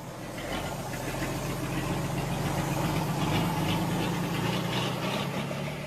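A bare vehicle chassis with only its engine, no body or plates, running on a road along the Trans-Amazonian Highway in Brazil. A steady, loud mid-pitched engine drone with rough knocking continues throughout, with no talk.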